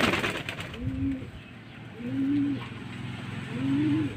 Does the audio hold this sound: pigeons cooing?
yes